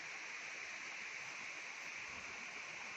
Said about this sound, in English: Nice little waterfall over there.